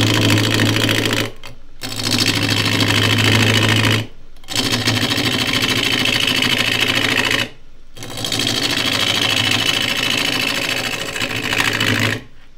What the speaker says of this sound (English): Bench is rattling here. This lathe hasn't got a huge amount of weight on it.